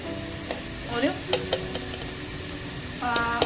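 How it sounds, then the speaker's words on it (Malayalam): Coriander powder being stirred into a chicken curry in a pan, a soft scraping of the spoon against the pan over a steady frying sizzle, with a few distinct stirring strokes and no talk. "1 ടേബിൾ സ്പൂൺ മല്ലിപ്പൊടി അതൊന്ന് ഇളക്കി കൊടുക്കുക"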